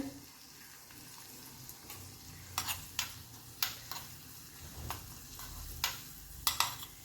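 Garlic and red chili sizzle faintly in hot ghee with cumin while tempering for dhaba-style dal khichdi, a soft steady crackle broken by sharp clicks and scrapes of a spoon against the pan.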